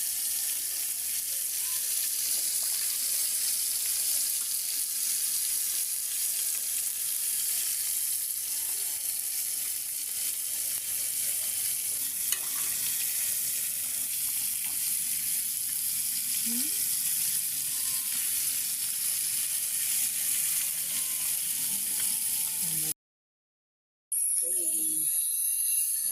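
Carp fish pieces fry in oil in a kadai with an even, continuous hiss, close up and unvarying, broken only by a brief cut near the end.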